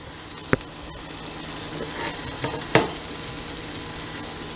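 Ham sizzles in a hot waffle maker, a steady crackling hiss with a few sharp pops and taps as pieces are laid down, no voices over it.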